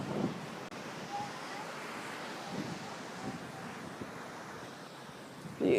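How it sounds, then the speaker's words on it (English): Steady rush of ocean surf rolling onto a beach, a continuous soft wash with light wind noise, moderately distant and even throughout, with a brief bump of handling noise at the end. "I want to show you the beach right now."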